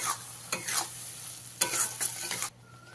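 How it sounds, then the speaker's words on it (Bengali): Pointed gourd (potol) fries on high flame in a pan while a spatula stirs it in repeated scraping strokes over a steady sizzle, close and moderately loud. The sound drops to a faint hum near the end. "এটাকে ততক্ষণ ভাজতে হবে যতক্ষণ না পর্যন্ত এর যে এক্সট্রা জলটা আছে সেটা শুকনো হচ্ছে"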